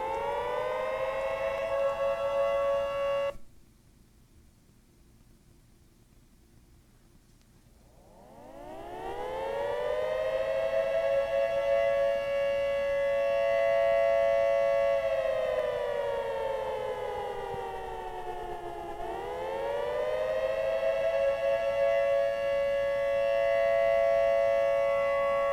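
A synthesized siren with reverb wails in long rising and falling tones, drops out briefly, then swells back in and sweeps down and up again, loud and echoing with no talk.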